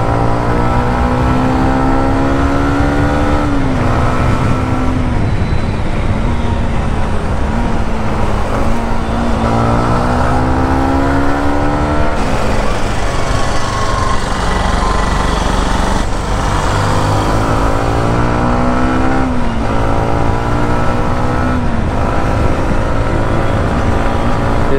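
A Yamaha MT-15 motorcycle is ridden on the road, its engine droning loudly and steadily throughout and rising in pitch through repeated accelerations and gear changes, with wind rush.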